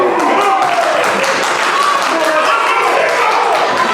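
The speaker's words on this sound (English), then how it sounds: "You can see Diego Alvarez applauding on the outside" Crowd applause and cheering at a live tag team wrestling show, a steady, loud wash of clapping and crowd noise that holds unbroken throughout, with a commentator's voice over it.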